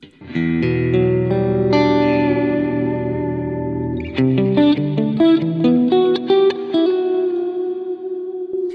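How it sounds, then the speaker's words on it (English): A clean electric guitar through a Boss GT-1000 big reverb patch rings out in lush, spacious reverb, first held chords then a picked melody with shimmering modulation, close and steady. "Patch 5 is my clean big reverb sound."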